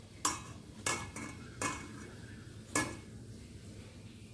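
Gentle hand-mixing of cabbage pieces in a bowl for chilli cabbage, heard as five soft, evenly spaced scraping clinks against the bowl over a quiet background.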